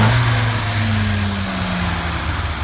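A Volvo Amazon engine runs with new spark plugs and ignition cables, a steady, fairly loud idle with an even low hum and no audible misfiring across the short stretch.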